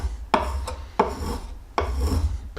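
A small compass plane takes fine shavings off wood in three rasping strokes, each starting with a sharp bite and trailing into a scraping rub, close and fairly clear.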